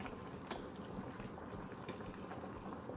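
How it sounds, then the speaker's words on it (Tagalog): A pot of Korean milky beef bone oxtail soup boils steadily, giving a soft, continuous bubbling and faint popping at low volume, with no voices over it. "pag kumukulo na siya, guys, kailangan hinaan na natin siya"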